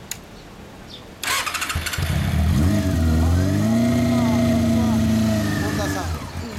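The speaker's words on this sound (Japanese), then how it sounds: "オッケー、エンジン音聞かせてもらえるかな。" A Honda CB400 Super Bol d'Or Spec III motorcycle starts up after a quiet pause, then settles into a loud, steady idle close by with a faint rising rev, its engine running alone.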